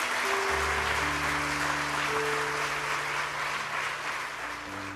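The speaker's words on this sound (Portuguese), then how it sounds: "Aplauda o Senhor Jesus mais uma vez" A church congregation applauds during a sermon, with dense, steady clapping over a sustained low organ or keyboard chord that holds beneath it and tapers slightly at the end.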